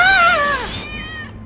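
A cat in Minecraft Story Mode gives a loud, close meow that bends downward and trails off into a fainter cry.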